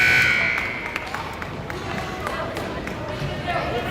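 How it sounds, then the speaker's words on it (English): A horn-like end-of-period buzzer sounds loudly at a high school varsity hockey game in Gillette, cutting off after about a second and giving way to crowd noise and arena chatter. "that is the buzzer"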